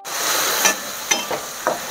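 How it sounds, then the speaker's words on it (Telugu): Onions and tomatoes fry in a pan over a medium flame for a mutton keema balls curry: a steady close sizzle runs throughout, broken by a few soft stirring scrapes, with no talking. "ఆనియన్స్ టొమాటోస్ ఫ్రై అవుతుంది కదండి."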